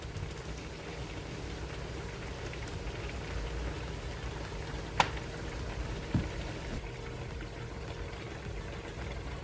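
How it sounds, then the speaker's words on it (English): Spaghetti boiling in a pot of water on the stove, a steady close bubbling hiss that runs the whole time with no talk. "now while our spaghetti is been boiling"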